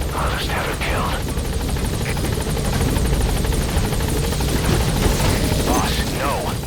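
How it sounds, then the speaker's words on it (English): A military extraction helicopter from Metal Gear Solid V arrives with a loud, steady rotor chop and engine roar throughout, while speech and radio chatter sound over it. "I'll send the extraction chopper."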